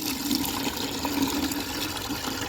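Water splashes and runs continuously while a bucket is rinsed out on a rooftop, making a steady nearby wash of noise.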